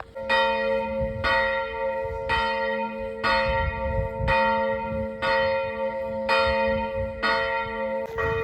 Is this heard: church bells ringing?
yes